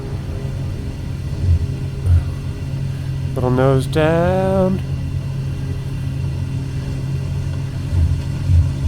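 A Pilatus Porter's turboprop engine roars steadily at high power as torque comes up on the takeoff roll from a Papua New Guinea airstrip, loud and constant, while a pilot speaks briefly over the cockpit noise.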